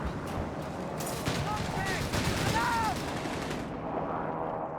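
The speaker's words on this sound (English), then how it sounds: "we got there some light support commandos here for Oziligath with the Vickers Key light machine gun" Vickers K light machine gun firing in Company of Heroes 3, dense rattling gunfire amid battle noise with a voice talking over it, fading toward the end.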